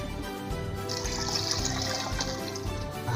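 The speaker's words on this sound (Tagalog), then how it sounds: "At dadagdagan pa natin ng konting tubig." Water pours into a pot of mung bean stew, a close, continuous gushing and splashing stream lasting a few seconds.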